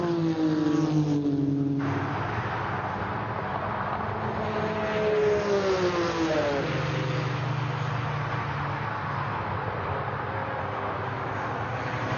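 A Porsche race car, a 2-litre class machine of the kind that won at Sebring in 1967, accelerates at Goodwood SpeedWeek 2020. Its engine is a steady, loud drone that climbs in pitch through several rising sweeps.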